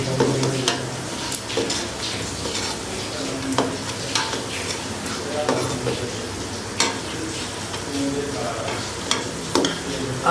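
Cardamom pods sizzle in a tablespoon of oil in a pot, with a continuous crackling fry. Repeated sharp clinks of a spoon stirring against the metal punctuate it.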